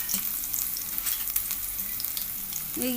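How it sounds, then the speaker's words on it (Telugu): Chopped onions and green chillies fry in a hot pan, giving a steady, dense sizzle that runs unbroken and close throughout, with no voices. "2 ఆనియన్స్, 2 పచ్చిమిర్చి అయితే తీసుకొని వేయించుకుంటున్నా."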